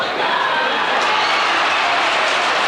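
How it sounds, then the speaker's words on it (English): Crowd noise at a 1983 Australian football semi-final, West against Norwood: a dense, steady roar of cheering and applause holds loud and unbroken for the whole few seconds. "Crowd have gone wild."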